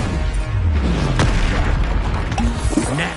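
The Expulso spell in Hogwarts Legacy goes off as a loud, deep booming explosion with a rumbling tail, amid dense battle noise and other spell effects, with no talk.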